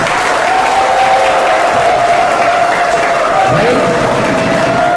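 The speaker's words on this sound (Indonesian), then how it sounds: "Tepuk tangan." An audience claps steadily through the final round of a school safety quiz competition, with a thin constant electronic hum running beneath the dense patter of hands.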